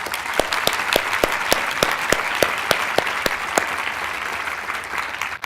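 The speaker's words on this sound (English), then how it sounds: "So let's give these folks a round of applause." Audience applause after a panel discussion at a plenary conference session, a steady loud wash of many hands clapping with a few sharper individual claps standing out, lasting several seconds.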